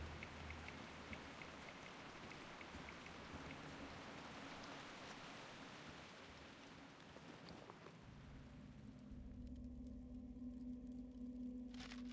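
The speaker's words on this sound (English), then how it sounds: "The rain's coming back." Steady rain ambience in World of Warcraft, a dense hiss of falling rain that carries on throughout, with a low rumbling tone growing stronger in the last few seconds.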